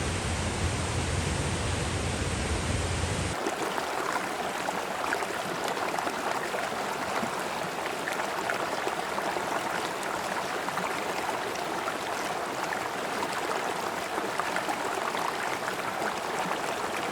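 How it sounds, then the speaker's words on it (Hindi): Calm river water flows quietly into Khadkhadi lake in Swat, a steady soft wash of water with no voices, after a brief louder noise at the start. "इसी खामोश बहते पानी से वजूद में आती है"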